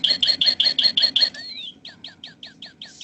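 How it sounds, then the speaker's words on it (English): Birds tweet outdoors in spring in Dutchess County, New York, in a quick, steady run of bright chirps, then a sliding whistle and a string of shorter tweets over a soft background hum. "you can actually hear the birds tweeting if you listen carefully"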